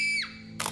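Gymnasts screaming straight into a camera, a loud, high, sustained shriek that slides downward and fades, followed by a brief breathy burst.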